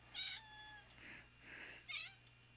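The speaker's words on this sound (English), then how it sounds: "That's my cat, she just wants attention." A cat meows three times in quick succession, the calls clear and fairly close with quieter gaps between them over a faint steady hum.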